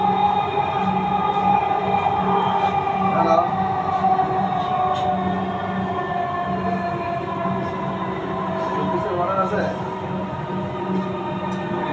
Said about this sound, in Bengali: This train is bound for Motijheel.